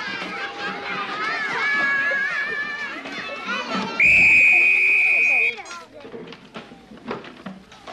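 Children chatter and call out, then a loud, steady whistle blast sounds for about a second and a half before the noisy chatter resumes.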